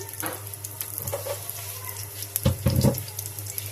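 Food fries in a thin pan over a gas cylinder stove, giving a light crackling sizzle broken by bursts of clattering and scraping near the end, all close and unaccompanied by talk.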